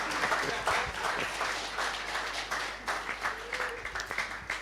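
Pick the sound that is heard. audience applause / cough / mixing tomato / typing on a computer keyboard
audience applause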